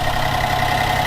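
The straight-six twin-turbo Hurricane engine of a 2025 Ram RHO idles in a steady, even hum with a low rumble and a constant whine, close by and without voices.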